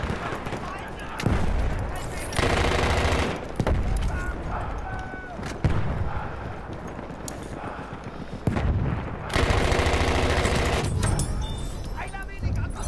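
Gunfire from a weapon in the video game Battlefield 1 on the Amiens map rings out in loud, repeated bursts and heavy blasts, with the battle din continuing between shots and a voice talking over it.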